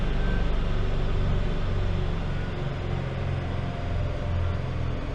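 A Citroen C4 By Loeb engine held at high revs on a dyno, a loud, steady, dense roar with rumbling low end that barely varies across the whole stretch.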